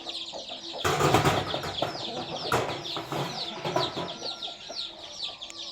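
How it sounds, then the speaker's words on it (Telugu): Breeding hens cluck continuously nearby in a busy chorus, with a flurry of wing flapping and scuffling at intervals throughout. "చూసుకోండి మంచి సైజులు ఉన్నాయి పెట్టలన్నీ కూడా"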